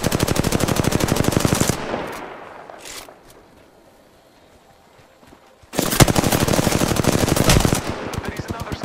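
Automatic weapons fire in Apex Legends: loud, rapid machine-gun bursts rattle close by, break off into a near-silent pause, then resume in long sustained volleys.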